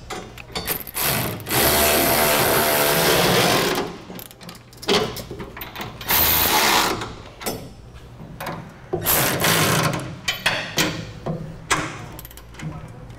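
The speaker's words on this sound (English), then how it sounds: "Now we'll start tightening down our fasteners." Fasteners on a Curt trailer hitch receiver are tightened on a 2003 Ford F-250, with bursts of ratcheting and power-tool whirring separated by short pauses, close and loud.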